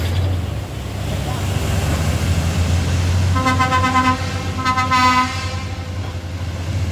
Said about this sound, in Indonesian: Truk trailer ini langsung tancap gas bosku.